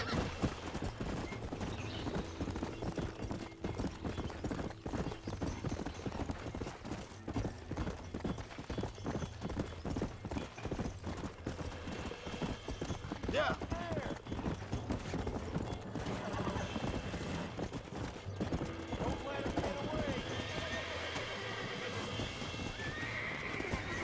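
Horse hooves clip-clop in a steady galloping rhythm in the Red Dead Redemption video game, joined by occasional neighs and whinnies, fairly quiet and continuous throughout.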